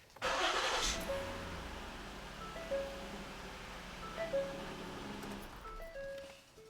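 A Ford Explorer SUV engine, freshly fitted with new spark plugs, cranks and catches with a loud burst, then settles into a steady, even idle, close by.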